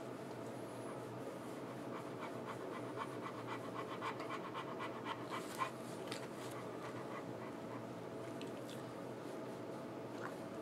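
Dogs pant steadily and quietly at close range, a soft rapid breathing rhythm that carries on throughout with a faint whimper or two and no talking.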